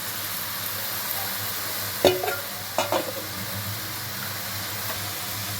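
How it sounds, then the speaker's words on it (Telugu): Cooked mutton pieces go into sizzling masala in a pan, a steady hiss of frying broken by two short scraping clatters as the meat drops in and is moved. "ఇప్పుడు ఉడికించుకున్న మటన్ ముక్కలు వేస్తాము"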